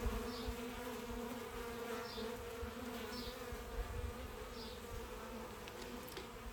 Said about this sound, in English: You can hear the buzzing. They're very busy